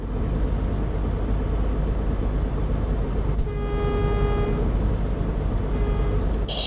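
Truck horn in the Nordic Horizons truck simulator, heard as two blasts, a longer honk of about a second followed by a short toot, over a steady low engine rumble.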